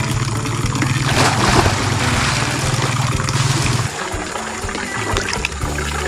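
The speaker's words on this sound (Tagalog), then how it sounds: "Running water" A stream at a farm resort in Morong, Rizal runs with a steady, close rush of clear water, trickling continuously with a low rumble underneath and no voices.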